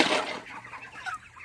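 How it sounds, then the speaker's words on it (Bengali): Broiler chickens, 32 days old, clucking inside a poultry farm shed, several birds close by with a burst of overlapping clucks and softer calls trailing off. "কিছু ছোটো মুরগি আছে, যেমন এই যে একটা, এটা তো বড় মুরগি।"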